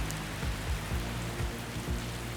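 Heavy rain pours steadily in a Florida wildlife setting, a dense continuous hiss of falling water with a few low thumps, close and fairly loud, and no voices.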